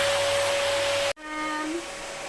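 A vacuum cleaner runs loud and steady with a constant whine, then cuts off abruptly midway, leaving a quieter room hum.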